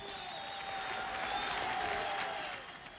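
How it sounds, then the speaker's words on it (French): Crowd of representatives from hundreds of local organizations applauding veterans at a 1983 rally in South Africa, a steady dense wash of clapping held at even loudness for nearly three seconds before easing slightly at the end. "les représentants de plus de 600 organisations locales d'action sociale et de résistance acclament les vétérans des années 50"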